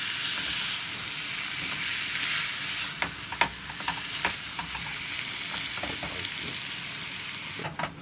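Tomatoes simmer and sizzle down in a pan, a steady close frying hiss broken by scattered light clicks and pops, with no talking.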